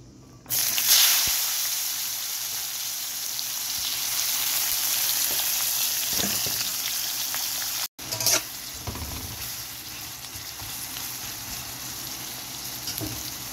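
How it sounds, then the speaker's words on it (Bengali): Chopped onion frying in oil with two dried chilies and a bay leaf gives a steady, close hiss and sizzle with occasional stirring scrapes, briefly cut off near the middle before resuming, with no speech. "পেঁয়াজটাকে খুব ভালো করে আমি ব্রাউন কালার করে নিব"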